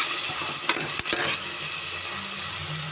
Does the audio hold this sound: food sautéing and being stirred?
yes